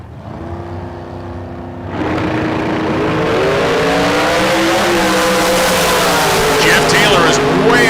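A drag racing car launches at full throttle, its engine surging from a low idle into a loud, rising roar that builds and sustains for several seconds.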